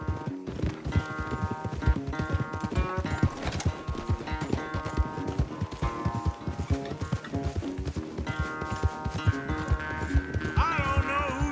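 Horse hooves galloping hard in a race in Red Dead Redemption 2, a steady fast clip-clop rhythm throughout, close and loud, with game music and effects layered over it.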